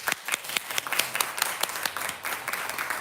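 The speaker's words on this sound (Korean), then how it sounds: "박수 한번 주세요." Audience applause at the close of a university lecture on SDGs and governance, a dense wash of many hands clapping indoors, steady and fairly loud for the whole stretch with no talking.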